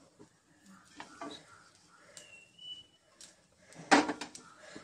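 Rice poured into hot ghee in a pot for pulao, a few soft scrapes and stirring sounds building to a brief loud rustling clatter near the end, close and fairly quiet overall.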